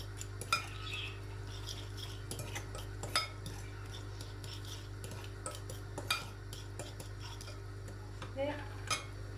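Spoon scraping and clinking in a bowl while chocolate diet cookie dough, sugar-free and egg-free, is mixed with melted butter; soft intermittent taps and stirring scrapes over a steady low hum, close and fairly quiet.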